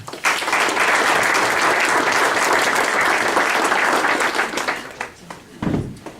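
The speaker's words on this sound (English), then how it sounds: "Please give them a hand." Sustained audience applause fills a football banquet hall, loud and steady for about five seconds before tapering into a few scattered claps and faint murmur.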